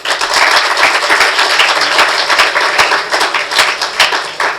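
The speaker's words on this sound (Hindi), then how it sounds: "एक ताली तो हो ही जाए." Lecture audience applauding Dr S. C. Vats, with steady, loud, dense clapping that continues without a break and is not mixed with talk.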